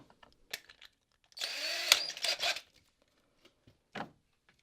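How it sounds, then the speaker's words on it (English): A cordless drill driving screws into a wooden door frame whirs in a short burst of about a second, followed by faint clicks and handling noises, then a brief second whir. "Take your cordless drill,"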